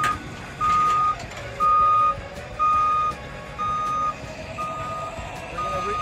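A flatbed tow truck reversing during a wet-land winch-out recovery, its backup alarm giving six evenly spaced loud beeps over a low idling engine rumble, no talking.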